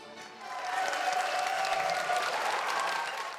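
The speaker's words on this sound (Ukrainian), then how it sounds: "Українські глядачі стали аплодувати у ритм музиці." Ukrainian audience clapping along in rhythm to folk music played by American musicians, steady applause swelling in and holding over a sustained melodic tone before easing off slightly.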